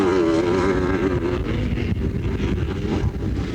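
A big 500 Kawasaki motocross bike races at a 1981 Australian MX Championship, its engine giving a loud, rough, continuous roar blended with wind buffeting across the microphone.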